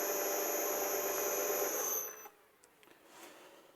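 A 32 mm face milling cutter surfacing XC48 steel makes a steady, faint high-pitched whine with a grinding hiss, then it cuts off after about two seconds, leaving near silence with a few small taps.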